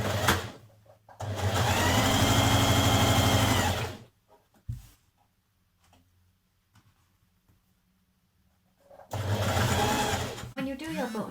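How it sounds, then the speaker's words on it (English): A sewing machine stitches the side seam of a Simplicity 8790 dress: a loud, steady run of rapid stitching for about two seconds, a pause with faint handling clicks, then another burst of stitching. "you're going to stitch down the side seam"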